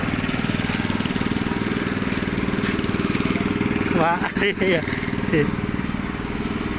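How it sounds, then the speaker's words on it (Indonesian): A motorized ground drill at a housing development site chugs with a steady, rhythmic engine pulse, close and continuous, while a person speaks briefly over it midway. "Nah, ini kita proses ngebornya nih."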